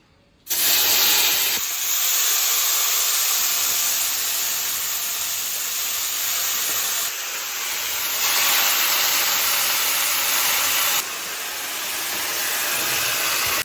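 Fish and taro stems frying in oil in a wok, a steady loud sizzling hiss that runs continuously and swells in a few surges.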